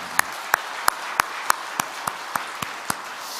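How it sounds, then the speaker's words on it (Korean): Rhythmic clapping in unison from a church congregation during an early-morning worship service, about ten sharp evenly spaced claps over quiet room tone. "우리 이 자리에서 박수 한번 쳐야 될 대목 같습니다"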